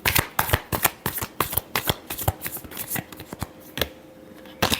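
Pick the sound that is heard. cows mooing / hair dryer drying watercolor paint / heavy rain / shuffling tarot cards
shuffling tarot cards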